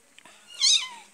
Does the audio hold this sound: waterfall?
no